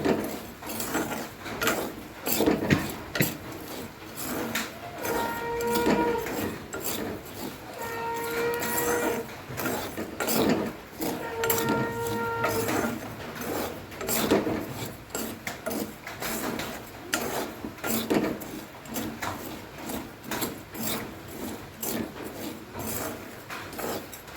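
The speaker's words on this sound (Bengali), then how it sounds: "আস্তে আস্তে ছোলাগুলোকে অল্প অল্প করে দিয়ে দেবো এবার আমি নাড়তে থাকবো" Dry chickpeas stirred and rattled in a hot pan while dry-roasting without oil or sand, a steady scraping, rustling clatter that continues close by with no talking.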